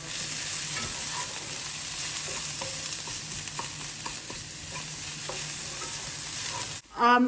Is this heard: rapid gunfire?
no